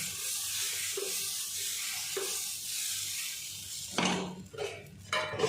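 Dosa batter spread thin on a hot pan, giving a soft steady hiss throughout, then a louder scraping and sizzling burst near the end, close and quiet with no talk.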